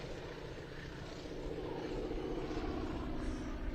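A radial-engine propeller airplane performs at an air show, its engine a steady, rumbling drone that grows slightly louder as it passes, heard from a distance with no talk.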